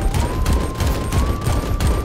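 Rapid sniper rifle fire in the video game AK-Xolotl, a burst of repeated shots in an uneven rhythm over a steady tonal hum, loud and close with no voices.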